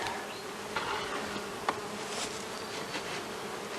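Honey bees buzz in a dense, steady drone as a beehive lid is pried open, sealed shut with wax and propolis. A few faint clicks and taps sound under the continuous hum.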